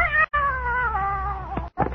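A cat caterwauls in a classic radio drama, a loud, close, drawn-out wavering yowl, then a brief break and a second shorter rising cry.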